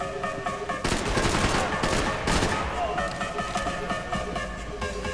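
Rapid bursts of gunfire with overlapping shots from the Max Payne 3 shooter, erupting loudly in two dense volleys over a tense in-game background with echoing reverb.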